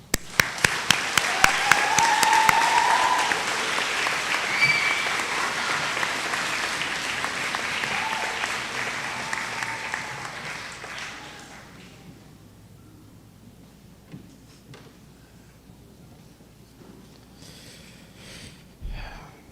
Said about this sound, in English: I would like to ask the audience to please give a round of applause for them as well.